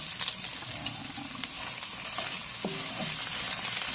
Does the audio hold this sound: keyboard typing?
no